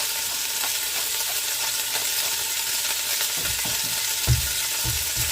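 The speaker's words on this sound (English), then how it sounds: "Now I'm just going to stir it a bit, take it apart." Extra-lean ground sirloin sizzles steadily in a hot pan while a utensil stirs and breaks it apart, with a continuous close frying hiss and a few soft scraping knocks near the end.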